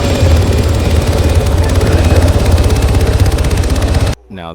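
A helicopter in the military game ARMA drones loudly and steadily with a fast rotor chop, close and continuous, then cuts off abruptly near the end into a brief quieter tone.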